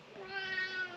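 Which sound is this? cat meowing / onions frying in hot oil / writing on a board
cat meowing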